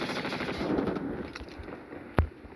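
Gunfire from a rifle in the mobile shooter game Call of Duty Mobile, a steady stream of rapid shots under game ambience, ending with one sharp, louder burst near the end.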